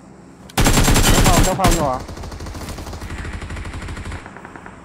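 Burst of automatic gunfire in PUBG Mobile, loud and rapid for over a second, then fainter distant shots and game noise continue while a voice speaks briefly.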